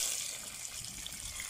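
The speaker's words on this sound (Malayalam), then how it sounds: "അതായത് നമുക്ക് ജസ്റ്റ് വെള്ളം ഒഴിച്ചൊന്ന് വാഷ് ചെയ്യാം." Water is poured to wash freshly picked onion leaves, grown in England, producing a faint, splashing trickle that runs steadily for a moment with no voices.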